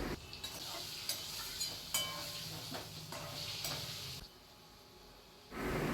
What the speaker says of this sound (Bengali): পরিমাণ মতো একটু সর্ষের তেল দিয়ে চারটে মিডিয়াম সাইজের আলু মাছ বরাবর কেটে নিয়ে সেটাকে নুন হলুদ দিয়ে লাল লাল করে ভেজে তুলে রাখবো